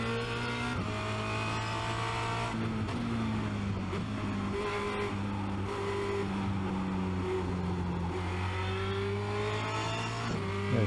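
Formula Renault 2.0 race car engine at high revs around Spa-Francorchamps, heard from onboard as a loud continuous whine that climbs through gears with abrupt shift breaks and rising, falling pitch.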